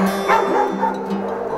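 A rescue dog gives a few short, loud yips and barks close by over a steady musical background.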